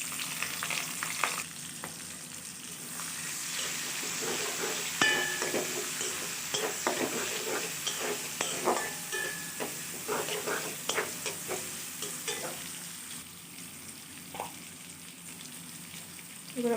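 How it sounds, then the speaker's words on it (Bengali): Chopped onion and green chili fry in hot oil left from frying pointed gourd, a close steady sizzle with intermittent crackles and stirring scrapes, moderately quiet with no talk. "এবার এই তেলের মধ্যে আমরা দিয়ে দেবো কেটে রাখা পেঁয়াজ এবং কাঁচামরিচ"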